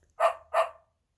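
A dog bark is imitated twice by a voice, two short close 'woof' sounds in quick succession, then silence.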